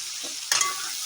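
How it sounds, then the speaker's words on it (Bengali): Potato pieces fry in a pan over steady heat for a papaya dish, giving a continuous soft sizzle with one sharper scrape of stirring partway through. "আলুটাকে একটু হালকা লাল লাল করে ভেজে নেবো"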